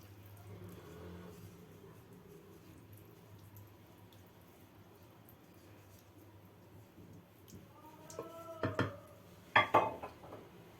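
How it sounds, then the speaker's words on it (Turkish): A metal spoon smooths a Konya-style mıkla mixture in a baking tray. The room is faint and quiet at first, then a few sharp clinks and scrapes of spoon against tray come near the end. "Üzerini şöyle kaşıkla düzelteceğim"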